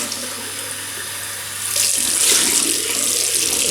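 Running tap water splashes into a sink while a face is rinsed of shaving cream, a steady close hiss that swells louder partway through.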